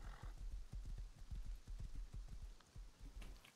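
A horse in the survival game Rust clip-clops in a steady, quick hoof rhythm, fairly close and quiet, with a soft rain-like hiss behind it.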